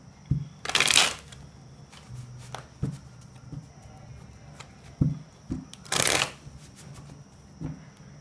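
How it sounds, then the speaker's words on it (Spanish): Tarot cards being shuffled by hand, a few crisp riffling bursts separated by soft taps and shuffles of the deck, close and clear with no talk. "Vamos a mezclar las cartas"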